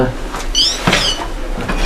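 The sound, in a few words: heavy solid iron door in Castle Grant opening or closing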